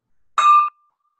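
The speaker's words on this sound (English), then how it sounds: "I'm ringing the bell." A single bell strike rings out clearly at a Rotary Club meeting, a bright metallic tone that sustains briefly and then fades into silence.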